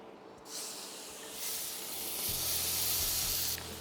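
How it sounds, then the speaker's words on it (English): An oiled steak laid into a hot stainless steel pan, bursting into a loud, steady hiss of sizzling that builds and holds close up. "I've just oiled each steak and I'm going to put each one in the pan."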